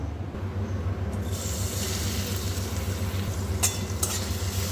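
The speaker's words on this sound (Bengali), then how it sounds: "এখানে দেখুন কড়ার মধ্যে আর একটু তেল দিয়েছি এবার চিংড়ি মাছটা ভেজে নেব" Shrimp frying in a little oil in a wok for a pumpkin and pointed gourd prawn dish, with a constant close sizzle under a low steady hum and a couple of brief sharper crackles near the end.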